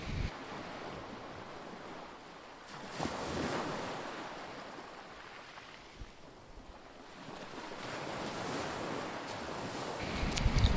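Sea surf rolling in at Digha beach, a steady broadband wash of breaking waves with gusts of wind buffeting the microphone, swelling louder near the end, with no voices.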